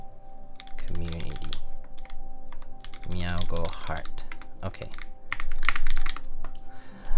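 Duck Orion v3 mechanical keyboard being typed on during a build stream, steady clacking keystrokes close up, mixed with someone talking briefly and background music.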